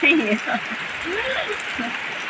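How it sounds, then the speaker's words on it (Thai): Rain falls steadily on the surface of a pond during an all-day downpour, a soft continuous patter of drops on water. A voice talks over it. "ชมเม็ดฝนร่วงหล่นบนพื้นน้ำ"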